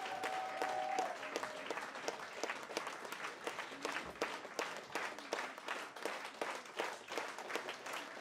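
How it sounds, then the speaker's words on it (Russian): Enthusiastic audience applause after a dance couple's performance, a dense continuous roar of clapping throughout, with a brief tone near the start. "Смотри, какие аплодисменты сумасшедшие!"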